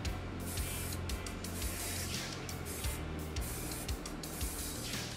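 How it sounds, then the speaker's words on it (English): Graphite varnish sprays steadily from an aerosol can onto a 3D printed pot, a continuous close hiss that carries on without a break, with faint bumps and handling noises underneath. "we apply spray graphite varnish to the pot"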